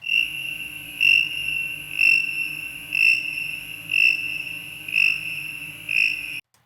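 Synthesized alien space crickets made in Ableton: a steady high-pitched electronic chirp tone with regular pulsing swells about once per second, over a low murmuring bed, continuous and fairly loud until it cuts off.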